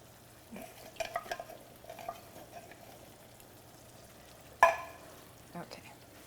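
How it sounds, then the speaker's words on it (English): Quiet scraping and stirring of coconut milk into a Thai curry in a pan, soft intermittent clinks with one sharper knock of utensil against the pan over a low background hum. "at this point, you will add the rest of the coconut milk into here"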